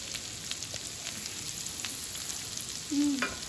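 Shrimp scampi frying in a pan while being stirred, a quiet, even sizzle running throughout with a short tonal clink near the end.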